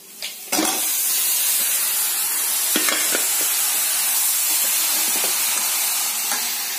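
Duck curry sizzling in a pan, a loud, steady frying hiss, while a spoon stirs it with a few scraping knocks against the pan. No voice is heard.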